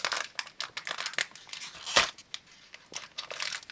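Plastic wrapper of a Stikeez collectible pack crinkling and tearing open up close, a dense run of sharp crackles with one louder rip partway through.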